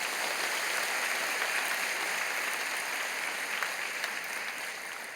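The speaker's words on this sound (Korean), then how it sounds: "여러분 그 박수로 환영하시지요." Church congregation applauding to welcome three new ministers during a service, a steady sustained wash of many hands clapping at even loudness for about five seconds, no talk over it.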